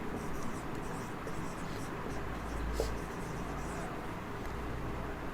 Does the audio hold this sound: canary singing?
no